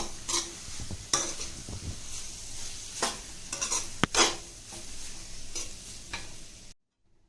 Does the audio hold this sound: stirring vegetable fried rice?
yes